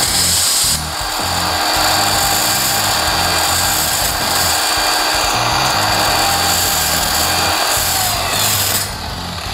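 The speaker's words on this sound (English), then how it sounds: "I'm going to bring the spur down here, run this across the face of the pad." A Flex 3401 rotary buffer runs loud and close while a spur is pressed across its wool or fiber pad, giving a continuous motor whine with rough, rhythmic scraping and brushing pulses.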